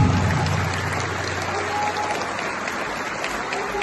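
An audience at a university speech applauds loudly and steadily, dense clapping filling the hall for a few seconds, with a low hum beneath at the start.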